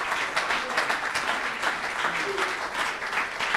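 A church congregation at a Sunday service bursts into steady applause, dense clapping filling the space evenly from start to finish without pauses.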